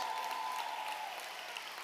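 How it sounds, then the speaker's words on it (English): Soft, distant applause from an audience at a leadership award celebration, a faint continuous patter of many hands clapping with a thin steady tone underneath. "I want applause for this one"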